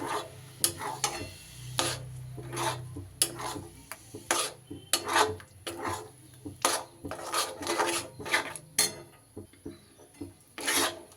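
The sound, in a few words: stirring chhana with jaggery in a pan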